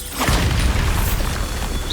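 A Bombarda blasting spell in Hogwarts Legacy goes off as a loud booming burst, then fades into a rumbling, crackling tail of debris for about two seconds.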